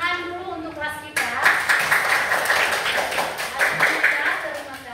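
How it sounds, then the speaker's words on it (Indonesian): A classroom of students bursts into sustained hand clapping after a teacher's voice, the applause dense and steady with a few louder claps, fairly close and continuing to the end. "Untuk itu kita tepuk tangan dulu untuk kelas kita."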